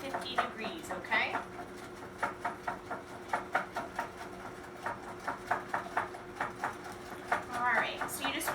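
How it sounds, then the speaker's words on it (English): Brownie batter is whisked in a bowl with quick, rhythmic clinking taps of the whisk against the sides, steady and close, with a voice briefly speaking over the strokes. "we're just going to whisk that around"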